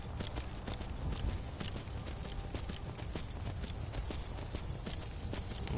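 Hooves of a summoned horse clip-clop steadily in Skyrim, a brisk continuous walking rhythm close by with no talking.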